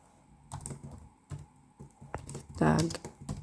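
Keys clack in short irregular bursts on a computer keyboard while text is entered into an image editor, with a denser flurry near the end, all under a nearby voice talking.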